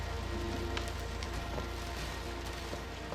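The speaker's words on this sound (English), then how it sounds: "Oh, for crying out loud, it's just a little rain." Steady rain patters on a surface as a dense, even hiss that stays loud and unbroken throughout.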